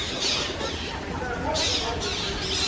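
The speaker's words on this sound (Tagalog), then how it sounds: "Ang ganda ng ibon." A large, colourful bird at a zoo gives harsh squawks in a few bursts over steady crowd and ambient noise, with people talking nearby.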